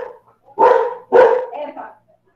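A dog barks over an open microphone during an online class, two loud close barks followed by a softer yelp, with a brief bit of voice at the start.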